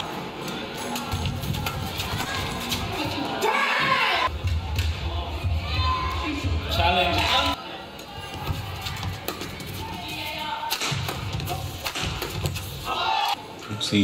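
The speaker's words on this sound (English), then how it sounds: "Drums banging away in the crowd." Drums bang away in the crowd at a badminton match, a steady loud din of percussion and cheering spectators through the whole stretch, with a brief dip midway and a commentator's voice over it.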